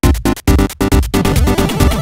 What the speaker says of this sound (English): I found a power-up sound, kind of like a traditional Mario gets a mushroom kind of sound